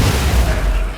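Gunfire from RimWorld colonists firing at a defensive turret, heard as a dense, continuous stretch of loud low booms and bursts that runs through the whole second.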